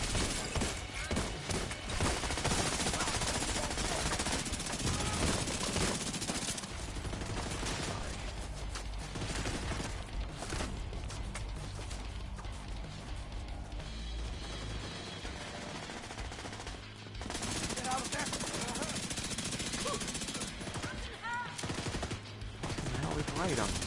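Gunfire in The Division 2 comes in dense, fast bursts of automatic weapons that rattle almost nonstop at close range and pause briefly now and then, with voices talking over it at times.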